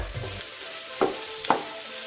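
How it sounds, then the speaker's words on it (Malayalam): Capsicum sautés over a high flame for a snake gourd kofta curry, giving a steady close sizzle with a couple of short scraping stirs in the pan. "ഇതൊന്ന് പകുതി വേഗമാവുന്നവരെ നമുക്കൊന്ന് വഴറ്റാം"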